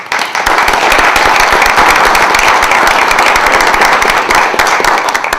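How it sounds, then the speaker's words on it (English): A seminar audience gives a warm, sustained round of applause for a speaker on one-person online businesses, with dense, loud clapping that fills the room evenly from start to finish. "give a warm round of applause to Mr."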